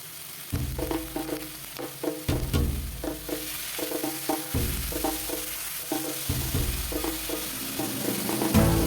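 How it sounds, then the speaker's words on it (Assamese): Potatoes with onions stirred in a pan with a spatula, scraping in irregular bursts over a steady sizzle at moderate loudness, no talking. "আলুখিনি ভালদৰে হেতাখনেৰে মই লৰাই থাকিম।"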